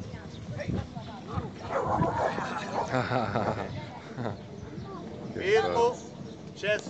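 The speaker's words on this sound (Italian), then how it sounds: "Il cane lascia in automatico e va in abbaio." A trained guard dog barks during an aggression-response exercise against a mock intruder, its sharp barks breaking out mid-clip and again near the end, mixed with a voice talking close by.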